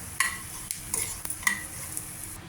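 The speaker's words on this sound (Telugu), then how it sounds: "కొద్దిగా వేయించుకోవాలి ఇలాగా బ్రౌన్ కలర్ వచ్చేదాకా కొద్దిగా వేగే ధనియాలు పల్లీలు వేగాయి" Coriander seeds and peanuts dry-roasting in a pan for stuffed brinjal curry, with a few quick scraping stirs and light rattling over a faint hiss, close and brief.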